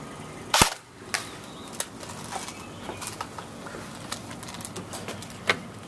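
An airsoft G36 is fired with 0.2 gram BBs during an FPS test, giving one sharp, loud crack near the start, then scattered faint clicks and ticks in a quiet room.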